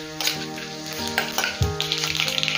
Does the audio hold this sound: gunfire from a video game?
no